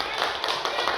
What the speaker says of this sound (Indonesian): Yuk, kasih tepuk tangan semuanya.